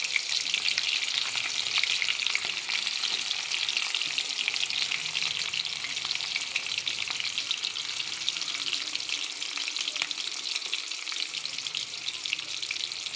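Onions sizzle and fry steadily in hot oil with whole cumin seeds, a dense, continuous crackling hiss close by with no voices.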